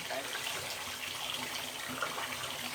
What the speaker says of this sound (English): Now, when we turn on the flush,